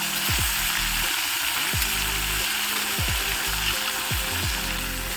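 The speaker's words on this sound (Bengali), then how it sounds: "এবার কিন্তু এক এক করে মাছগুলো সব দিয়ে দিচ্ছি তেলে।" Rohu fish pieces fry in hot oil in a wok over a wood-fired clay stove, giving a loud, steady sizzle. Repeated sliding metallic scrapes and taps come from close by.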